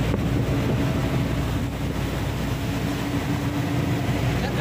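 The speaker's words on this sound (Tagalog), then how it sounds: "Sobrang laki ng alon." Heavy rumbling surf and wind from Super Typhoon Goring buffet the microphone, a constant roaring wash of large waves with no clear breaks.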